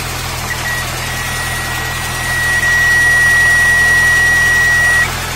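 An Austin Allegro classic car's engine idles just after starting, giving a steady low hum with a thin, high electrical whine running through most of the clip and no voices.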